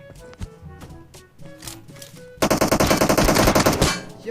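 Gunfire in the mobile battle-royale game PUBG Mobile: a few scattered single shots give way to a loud, rapid automatic burst firing continuously for about two seconds.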